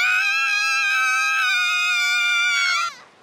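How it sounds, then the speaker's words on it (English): An audiobook narrator voices three girls screaming together, a single long high-pitched shriek held steadily for about three seconds before cutting off sharply. "All three girls screamed."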